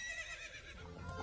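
A horse neighs as Epona, Link's horse in The Legend of Zelda: Ocarina of Time Master Quest, answers a call: a short whinny over steady game music, rising to a louder tonal cry near the end.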